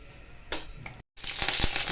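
Mustard seeds and cumin sizzle in hot oil while cabbage muthiya are being made, a steady crackling hiss that cuts out briefly and comes back louder and denser after the cumin goes in.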